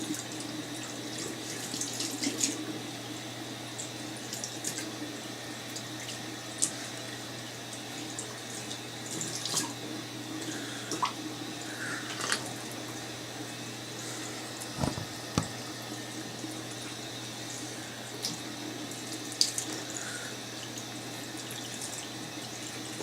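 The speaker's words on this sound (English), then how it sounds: "Washing my hands 3 times, making sure the water reaches between my fingers" Water runs steadily from a tap into a sink during handwashing, a continuous close hiss and splash with small irregular spatters and drips throughout, no voices.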